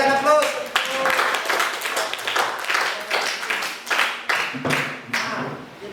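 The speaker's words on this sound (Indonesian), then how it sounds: "Kita berikan aplaus" An audience at a teacher-training session applauds in a steady, continuous patter that lasts several seconds, with a voice speaking over the clapping.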